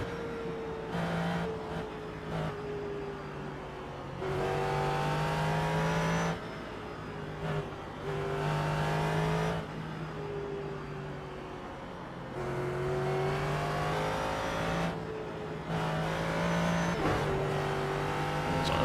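A Ford GT3 race car in iRacing at Suzuka, its engine revving hard and cycling through upshifts and downshifts, loud and close throughout, with short breaks in the roar and a hint of tire squeal.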